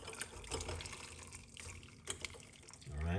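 Lime, garlic and clove tea poured off into a cup, a soft, close splash of liquid with small drips and clinks, fairly faint and steady.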